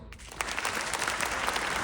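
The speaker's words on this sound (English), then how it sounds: "if you have not seen it, clap politely" Polite clapping from an audience at a film Q&A, brief and fairly faint, a light scatter of claps after a quiet start.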